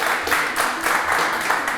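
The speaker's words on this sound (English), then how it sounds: "Have a big applause, a round of applause for Max, Sophie and Gelbrich" Brief burst of steady audience applause for university quiz contestants at a graduation award event, dense clapping throughout.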